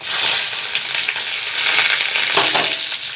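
Garlic and shallots fry in hot oil, a loud, steady close sizzle with faint stirring and no voices.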